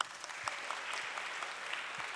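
Audience applause at an Indonesian Islamic seminar for young preachers, a brisk even patter of many hands with a few sharper claps close by, no speech.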